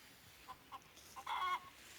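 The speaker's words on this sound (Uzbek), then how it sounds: "Bu yerda xo'roz ham bor ekan." A rooster in a lemon orchard gives a few short, soft clucks followed by a louder, brief call, all faint against a quiet outdoor background.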